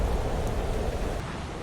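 A thunderstorm rolls in over an alien world in Planet Crafter, a steady low rumble of thunder and rain-like wash holding at even loudness throughout, with no voices over it.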